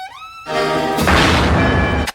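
A deep cannon boom bursts out loud after a sustained musical note at an elementary school band concert, its rumble filling the air before cutting off sharply.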